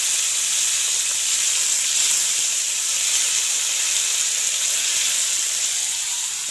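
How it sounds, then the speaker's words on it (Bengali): Potatoes fry in oil in a wok for a chow mein, making a loud, even hiss that holds steady throughout with no talking. "কড়াই তেল দিয়েছে, আলুটা ভেজে নেবো"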